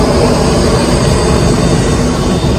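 Interior of a moving passenger train on a long trip to the sea, with a steady loud broadband rumble and hiss of wheels and carriage, no clear voices over it.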